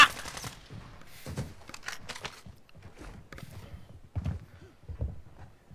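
Gunfire in the video game Call of Duty Warzone, with several short bursts and scattered shots of varying loudness, one heavier cluster near the end.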